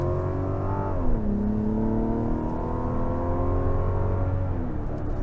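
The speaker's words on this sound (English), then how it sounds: "It feels good when it shifts through the gears, it rolls through the gears." A 2025 Mazda CX-70 Turbo SUV accelerating hard, its engine note climbing steadily, dropping once on a gear shift, then rising again, heard from inside the cabin as a loud, continuous drone.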